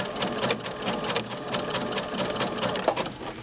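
Sewing machine running with a fringe looping foot, a steady fast mechanical stitching rhythm with small pops as loops come off the back, close and moderately loud, with no talk.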